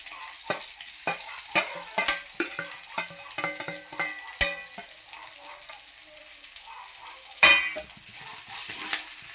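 Moringa leaves fry with onions in a pan, a close crackling sizzle broken by repeated sharp scrapes and clinks of stirring, with one louder clatter near the end.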